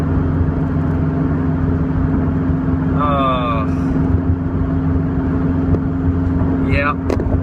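A Subaru STI cruises on a highway, its steady engine and road drone constant and close from inside the cabin, with brief squealing tones partway through.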